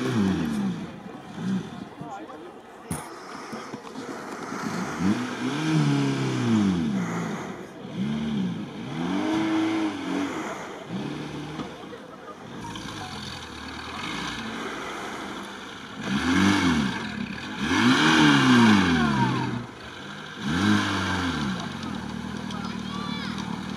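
An off-road car engine strains through deep sand, its revs rising and falling again and again as it labours, with people talking over the engine the whole time.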